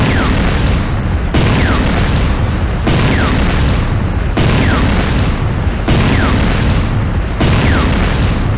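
Six heavy booming explosions, evenly spaced, strike one after another as the GDI Tiberium Refinery comes under attack in the game Renegade. Each is loud and close, with a rumbling tail.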